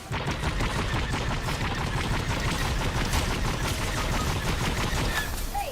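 Rapid gunfire in the Fortnite video game striking the player, a dense, continuous burst of sharp shots rattling on without a break for several seconds.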